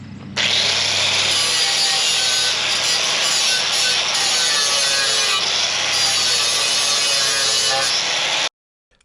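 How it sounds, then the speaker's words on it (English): An angle grinder works a metal strut outdoors in one steady, loud, unbroken run of harsh high-pitched grinding that stops abruptly near the end. "so let's head outside and do some grinding."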